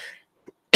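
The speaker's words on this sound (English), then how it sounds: "I'll still cough and sniffle here and there" A single short, sharp cough bursts out loud and close right at the end, after a brief faint hiss and a soft little sound.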